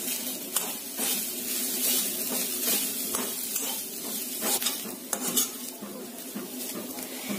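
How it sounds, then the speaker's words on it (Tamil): Grated coconut dry-roasting in a pan while being stirred, a steady run of close scraping and clinking of utensil against metal, with soft sizzle underneath and no voices. "தேங்காயோட ஈரம் போக வறுத்தா போதும், இந்த அளவுக்கு வறுத்தா போதும்."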